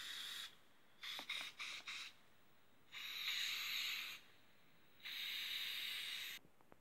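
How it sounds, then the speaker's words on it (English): Aerosol body spray hissing in several bursts: a few short puffs, then two long steady sprays, close and alone with no voices. "Where's the body spray?"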